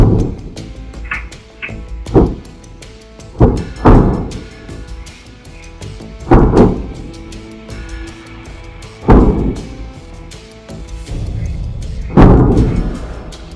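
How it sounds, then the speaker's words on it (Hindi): Explosions during a night-time attack on a populated area, reported as Hezbollah strikes: a series of deep, booming blasts, some near and loud, others more distant, spaced a few seconds apart over a low background rumble. "तभी धमाकों की आवाजें आने लगती हैं"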